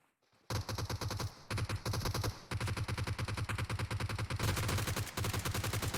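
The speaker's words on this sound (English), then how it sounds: "Shots going in on Foxy" Rapid automatic gunfire in a battle royale video game, long dense bursts of shots repeating almost continuously with brief gaps, loud and close.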